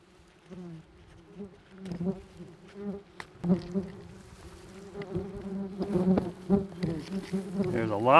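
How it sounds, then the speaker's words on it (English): A dense swarm of yellow jackets buzzes close by from a nest being dug up, many overlapping drones rising and falling, with occasional soft taps and thuds of wasps hitting the person. "There's a lot of buzzing going on and they're hitting me."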